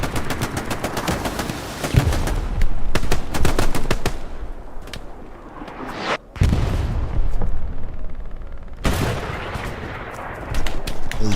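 Dense gunfire in the World War II shooter Hell Let Loose on Omaha Beach, with rapid machine-gun bursts and heavy booming shots that keep going with brief pauses, loud and close.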